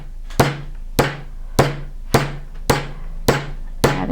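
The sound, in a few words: hammering a texture stamp into metal in a vise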